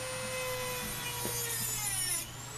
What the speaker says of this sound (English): Enter the Dremel.